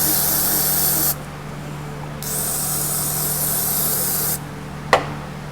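Brake cleaner sprayed from an aerosol can onto bicycle fork parts, loud continuous hissing bursts broken by short pauses, with a faint low hum underneath and a small knock near the end.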